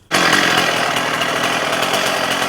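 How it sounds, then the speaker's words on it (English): A heavy Husqvarna chainsaw snaps from silence to a loud, high-revving roar, holding a steady, buzzing engine drone close by until the end. "I'm going to use this Husqvarna, see how it does, because it's a much heavier saw."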